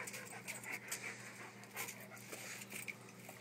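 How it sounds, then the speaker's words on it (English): A dog pants steadily nearby, quick rhythmic breaths running continuously and fairly quiet, with no talking. "Look at this dog."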